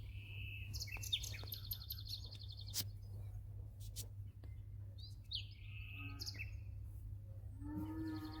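Assorted birds, parrots among them, call and chirp at the bird paradise of Mumbai Zoo in Byculla, with scattered high tweets and whistles over a steady low background hum and no talk.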